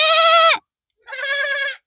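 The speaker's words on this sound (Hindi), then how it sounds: "अब बकरी चिल्लाती है" A goat bleats loudly twice at close range, a long wavering call followed after a short pause by a second, with no talk over it.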